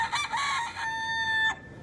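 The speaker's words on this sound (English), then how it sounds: "harming a chicken or a rooster carries a big fine." A rooster crows in Key West, its long harmonic call rising and holding steadily for over a second before cutting off, fairly close and clear with no talk over it.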